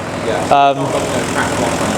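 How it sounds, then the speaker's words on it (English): A Range Rover P38 engine idles steadily after water pump and crank pulley repair work, a low, even rumble with a brief tonal burst near the start. "So as you would hear, the engine is running a lot smoother and a lot sweeter."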